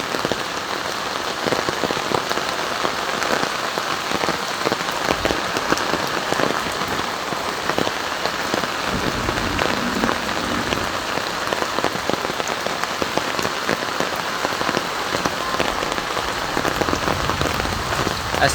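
Heavy rain pours steadily onto surfaces during a flood in Noakhali, a dense, continuous close hiss of drops that never lets up, with no talk.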